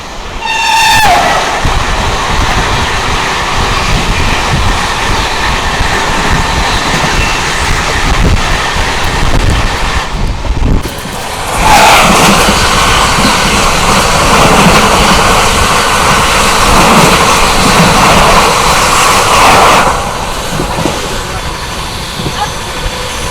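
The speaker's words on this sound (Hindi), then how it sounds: "तो अभी ना back to back high speed crossing होने वाली हैं" Indian high-speed express trains crossing back to back, heard from aboard the moving Mahabodhi Express: a loud continuous rushing roar of a passing train, a brief lull, then a second long roaring pass that fades toward the end.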